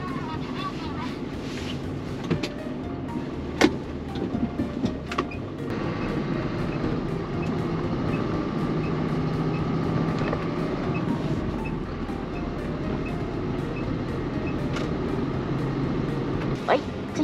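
A truck drives along a road on its first regular delivery run of the new year, its steady low engine and road rumble continuing throughout at a fairly constant level, with a few brief knocks and clicks over the drone.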